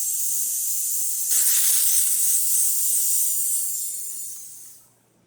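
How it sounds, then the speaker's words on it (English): A strong blast of steam hisses from a La Pavoni espresso machine, surging louder partway through, holding steady, then fading out as the valve closes. "Very strong steam."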